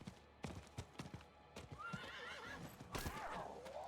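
Horse hooves clip-clopping in a video game, with a neigh partway through, the steps irregular and fairly quiet, close by.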